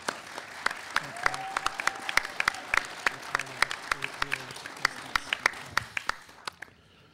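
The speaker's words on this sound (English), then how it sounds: "Let's give a big round of applause for our contestants," Sparse, scattered hand claps from an audience at a middle school quiz show championship, individual sharp claps spread unevenly across the room with a faint voice underneath, tapering off near the end.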